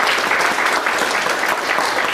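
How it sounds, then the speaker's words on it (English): Audience applause at a half-day professional seminar, brisk continuous clapping from a roomful of attendees. "give them a big round of applause for sharing"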